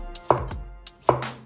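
Baby corn is chopped with a kitchen knife on a board: two crisp, close thuds spaced about a second apart, clear and isolated, with no voices.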